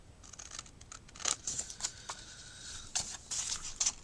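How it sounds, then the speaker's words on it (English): Faint, crisp scissor snips trimming the rough edge of a paper page for a chunky flap journal, several short cuts in quick irregular succession, close and quiet. "Let's just trim the edge off that so I haven't got that rough bit."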